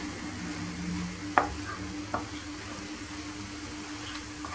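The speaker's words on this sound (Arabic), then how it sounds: "غادي نحرك غير شويه وغادي نطفي عليها" Meatball filling with olives, coriander and parsley is stirred in a pan, a soft steady simmering sizzle broken by two sharp utensil taps, close by with no voices.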